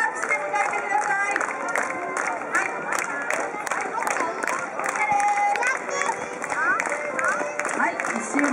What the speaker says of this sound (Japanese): 皆さん大きな大きな拍手で迎えてください